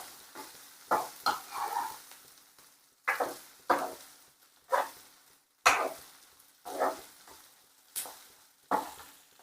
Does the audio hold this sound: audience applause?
no